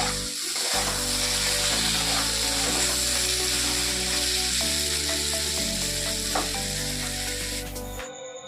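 Pumpkin and potato fry in oil tempered with black cumin seeds and green chilli, a loud continuous sizzle with a steady low hum beneath and a brief break near the end, no talking.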